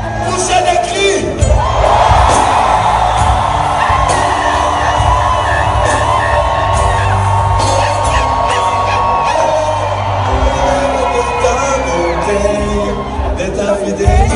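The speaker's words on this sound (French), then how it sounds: "Poussez des cris." A church congregation at a French-language worship service shouts, whoops and cheers loudly together, a continuous crowd roar over a sustained musical backing.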